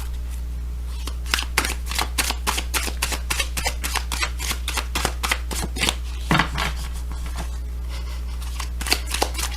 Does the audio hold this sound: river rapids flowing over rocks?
no